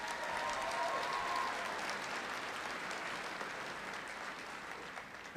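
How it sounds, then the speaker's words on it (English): Sustained applause from a large crowd at a University of Pittsburgh at Johnstown commencement ceremony in 2019, steady and fairly distant, slowly tapering off over several seconds with no speech. "I think that deserves first a round of applause."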